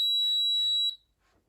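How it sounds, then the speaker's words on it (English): A Cosori rice cooker signals finished rice with a clear, steady high-pitched electronic beep held for about a second before cutting off into near silence. "there you hear the beeps going off"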